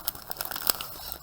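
Scissors snip through paper while cutting out a heart shape, a few short crisp crinkling cuts close by in a quiet room.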